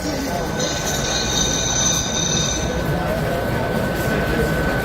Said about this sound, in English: You kind of hear a brake squeal as trains go across the sensors